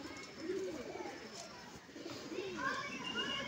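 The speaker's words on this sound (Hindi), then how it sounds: "दोबारा जा रहे हैं कबूतर" Soft pigeon cooing and fluttery bird sounds mixed with background chatter and distant voices, fairly faint throughout, as pigeons fly off again.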